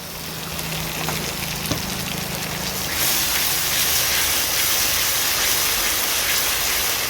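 A spice paste with tomato paste fries in a pan for a katla fish curry, a dense steady sizzle that grows louder and brighter partway through and carries on alone with no voices.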